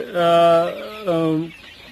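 A brooding hen gives two drawn-out, tonal calls in quick succession, close and fairly loud, then quiet.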